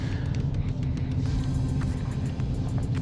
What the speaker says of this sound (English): I love the exhaust. It's not raspy, not quite drony, anything like that. It's pretty quiet,